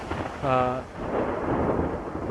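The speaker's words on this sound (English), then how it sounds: "we've got a good thunderstorm kicking off here" A thunderstorm rolls through the Åre mountains: a steady wash of rumbling, rain-like noise fills the clip, and a brief voice is heard near the start.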